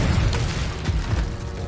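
A fire spell cast in the Hogwarts Legacy video game bursts out as a sustained roaring whoosh. Low rumbling booms fill the short, dense stretch at a steady loudness, with no speech over it.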